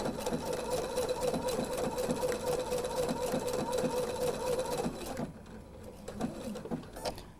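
A sewing machine stitches a quilt with a steady, rapid mechanical whir and needle clatter. It runs evenly for about five seconds, then drops to quieter intermittent stitching as it slows to pivot with the needle down.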